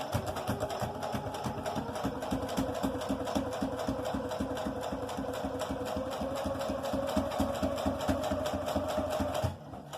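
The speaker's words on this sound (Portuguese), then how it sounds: "E aí, eu volto costurando em cima de novo" A sewing machine stitches fabric for a baby document holder, running in a fast, steady mechanical rattle close up for nearly the whole stretch, then stopping abruptly near the end; no voices.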